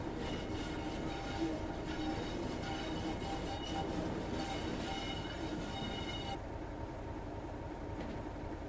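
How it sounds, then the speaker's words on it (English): A Class 31 diesel locomotive in Train Simulator idles with a steady, even rumble that carries on unbroken, with a faint higher whine that drops away near the end. "Even sounds nice on tick over. Probably not my favourite diesel on tick over sounding thing, but it does sound quite nice."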